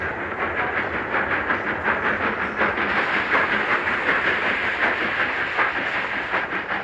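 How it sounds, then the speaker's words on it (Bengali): A train pulls into a station platform as a sound effect in a Bengali radio suspense drama, a steady, loud rolling rumble with hiss and rail clatter that holds for the whole stretch with no voices. "অবশেষে যথাসময়ে ট্রেন প্ল্যাটফর্মে এলো"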